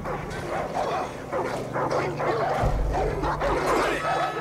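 Several dogs in the Far Cry 5 video game bark and yip in quick overlapping bursts, close and loud, with whimpering mixed in over a low rumbling game background.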